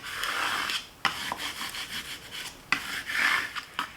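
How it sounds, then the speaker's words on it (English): A plastic scraper tool presses and rubs across vinyl decal and transfer tape laid on a Cricut machine, giving close, steady rasping strokes broken by a few short pauses and scrapes. "I'm going to grab my scraper tool and I'm going to burnish, which just means to press down like this"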